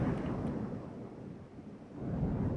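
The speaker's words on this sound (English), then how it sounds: "And it's a storm." A thunderstorm at sea in a naval strategy video game produces a low, rumbling wash of thunder and wind. It is a faint, continuous roar.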